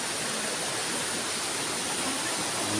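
Portabaga Falls pours in a steady, broad rushing roar of falling water, constant and unbroken, filling the scene at close range with no voices over it.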